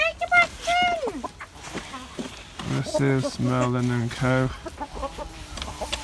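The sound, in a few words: chickens and rooster clucking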